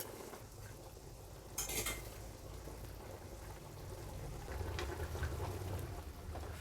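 A pot of Sankarankovil-style mutton biryani with its water at a full boil gives a soft, steady bubbling and sizzling, fairly quiet and close, broken once by a brief metallic clank.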